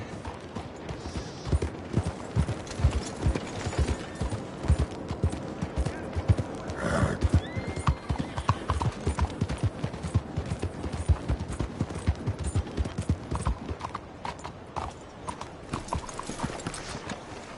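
Horse hooves clip-clop steadily at a walk in the Red Dead Redemption 2 video game, with a brief whinny and faint voices in the background.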